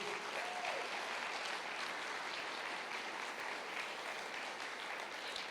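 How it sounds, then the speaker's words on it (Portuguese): Congregation clapping in a church service, a steady, even wash of applause held at moderate distance throughout with no voices over it. "Dá uma salva de palmas para Jesus."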